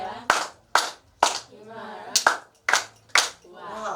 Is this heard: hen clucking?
no